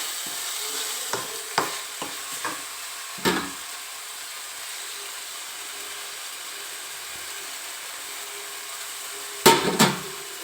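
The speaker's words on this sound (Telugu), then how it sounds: "ఇవన్నీ బాగా ఫ్రై అవ్వనిద్దామండి. చూడండి, టమోటా ఇట్లా దగ్గర అవుతుందండి" Tomato and spices frying in a pan, a steady low sizzle running throughout, broken by a few sharp clinks of a stirring spoon near the start and a louder scrape near the end, with no one talking.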